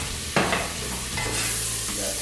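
Minced garlic sizzles in a hot pan, a steady close frying hiss with a sharp burst of crackle early on and softer stirring scrapes throughout.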